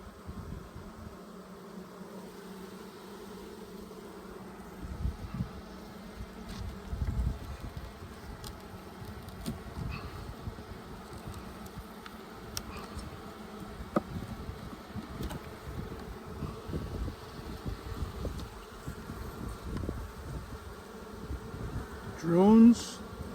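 Honeybees buzzing around an opened hive in late fall, a steady low hum of many insects close by, with a brief louder buzz near the end.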